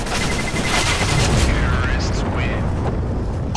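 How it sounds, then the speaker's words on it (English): A bomb detonates during a competitive CS:GO round, a loud booming blast with rumbling gunfire-like texture sustained across the clip, with players talking over it. "He's defusing. Okay. It is going to explode."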